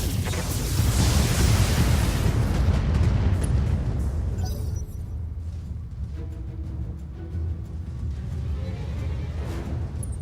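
BattleMech weapons fire in the BattleTech video game, a heavy burst of booming blasts and explosions in the first half, then a quieter rumbling tail with faint voices underneath.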